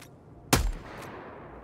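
A single heavy gunshot in the video game Helldivers 2, a sharp loud blast with a short rumbling decay and a faint second crack just after, over quiet background.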